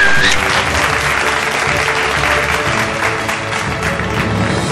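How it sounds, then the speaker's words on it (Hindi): Loud, dense applause from an audience at a business leaders' awards event in Chhattisgarh, a steady wash of clapping that holds for the whole span and eases only slightly. "एक बार जोरदार तालियां।"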